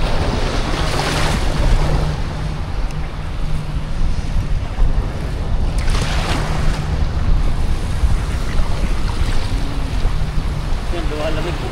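Loud, continuous sea surf washes at a beach, with heavy wind buffeting the microphone and a few faint voices underneath.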